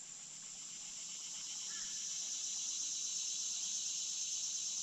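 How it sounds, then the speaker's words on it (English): Woods along the Buffalo River are filled with a loud, steady wall of cicada buzzing that swells gradually in level, with one short faint chirp near the middle. "You can hear that rhythm to the cicadas."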